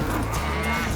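Cattle mooing on an Australian farm, a loud, close, sustained low moo filling the whole moment without speech.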